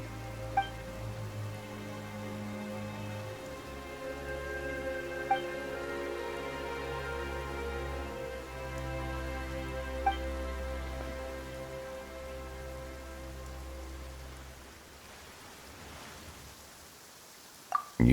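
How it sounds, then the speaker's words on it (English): Sudden rain falls in the Genshin Impact game world as a steady soft patter under sustained music tones, with a few bright chimes, before fading out near the end. "Why is it raining all of a sudden?"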